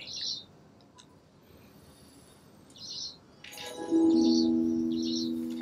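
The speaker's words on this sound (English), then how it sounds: "A house sparrow." House sparrow chirps in the game Alba: A Wildlife Adventure, several short bright calls spaced apart against quiet ambience, followed by a rising tonal in-game chime near the end.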